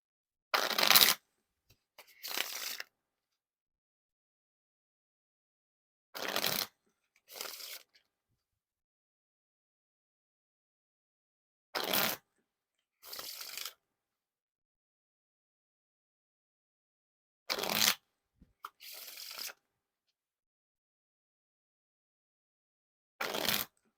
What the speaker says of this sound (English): Now for the riffle shuffle or bridge shuffle.